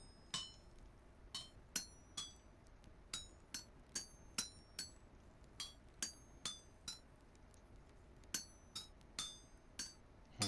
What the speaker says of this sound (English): we gotta hammer the iron into the form of an ingot